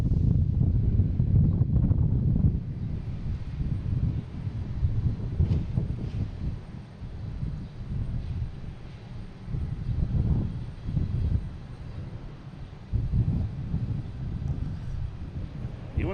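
A Delta airliner on flight 5597 from LAX arrives at Boston Logan, its engine roar steady and broadband with wind buffeting the microphone, loudest at the start and then rising and falling as it passes.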